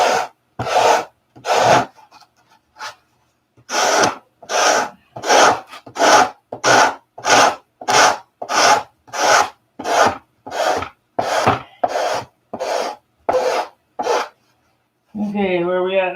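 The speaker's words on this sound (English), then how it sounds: "I even have some 24 grit sandpaper." Coarse 24 grit sandpaper rasps across wood by hand in about twenty loud, evenly paced back-and-forth strokes, close up, with a brief voice at the very end.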